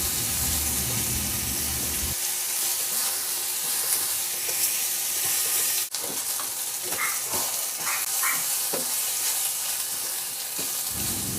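Pork liempo sautéing with tomato paste in a pan gives a steady, close sizzle and fry crackle, with scattered stirring clicks and scrapes running throughout.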